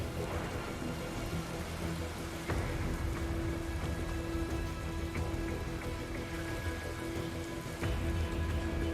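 Heavy rain falls steadily in the Metal Gear Rising video game, a dense continuous patter on surfaces with a low rumbling undertone and a few sharper splashes throughout.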